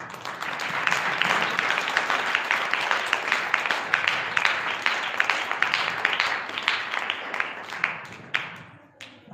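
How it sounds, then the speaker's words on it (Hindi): A church congregation clapping in praise during a worship service, a dense, steady crowd of hand claps with occasional sharper rhythmic accents, loud and close, tapering off at the end. "परमेश्वर की प्रशंसा के लिए ताली बजाओ।"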